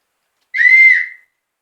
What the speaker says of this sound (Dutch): Dan hebben we een klein fluitje.